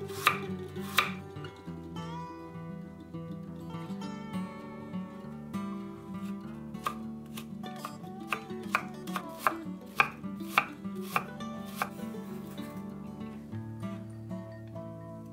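A knife slices a carrot on the bias against a cutting board, with a steady run of crisp, close chops in an uneven rhythm over a soft tonal background.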